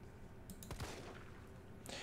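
Gunfire in the video game Resident Evil 3, with a few quick sharp shots clustered near the start of the short clip and a loud burst at the end, over steady game ambience.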